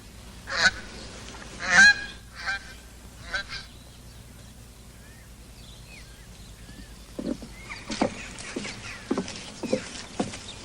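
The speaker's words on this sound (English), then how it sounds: "Quack, quack." Honking waterfowl calls, a few loud bursts near the start, then quieter scattered calls and a busier cluster toward the end, over faint background noise.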